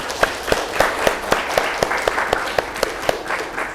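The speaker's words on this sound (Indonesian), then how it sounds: "kita berikan aplaus kepada kelompok" Classroom group applauds a presenting group in a steady, evenly paced clapping rhythm of sharp, close claps, with a faint murmur of voices underneath.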